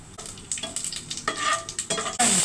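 Cumin and mustard seeds crackle and sizzle in about three tablespoons of hot oil for bhindi masala, with close, bright popping bursts and scraping stir strokes in a pan.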